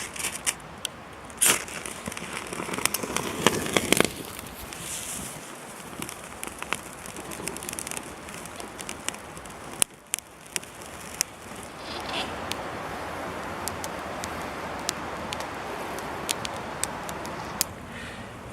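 A small campfire lit with a magnesium fire starter burns outdoors, a steady soft hiss with frequent sharp pops and crackles scattered throughout, close and moderately loud, with no voices.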